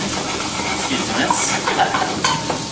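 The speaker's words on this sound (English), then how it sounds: "the onion, garlic and rosemary are the first things to do, just to sweat it up" Onion, garlic and rosemary sizzling and sweating in a hot pot for Irish stew, a close steady frying hiss with occasional stirring scrapes and clinks.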